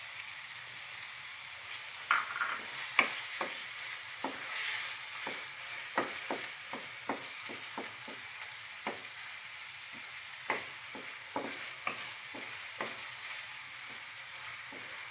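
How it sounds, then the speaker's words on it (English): Chicken sears in a pan with lemongrass and turmeric leaf, giving a soft, continuous sizzle with frequent sharp ticks and stirring clatters, heard alone and fairly close. "we sear it"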